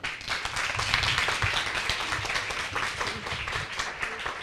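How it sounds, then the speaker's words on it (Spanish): Audience applause for a doctor introduced at a breast cancer talk, a dense, even patter of many hands clapping throughout at moderate level. "Un aplauso para la doctora."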